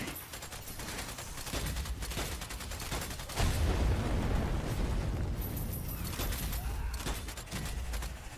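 Rapid bursts of gunfire and booming blasts from Strange Brigade, a loud, dense barrage with a heavier explosive rumble rising midway and continuing to the end.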